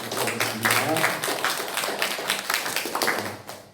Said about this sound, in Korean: 우리 김병수 목사님께 다시 한 번 더 감사의 박수를 드리겠습니다